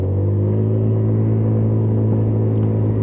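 A Lexmoto Diablo 125cc motorcycle pulling away on a ride, heard as a loud, steady, close engine rumble throughout, with no speech.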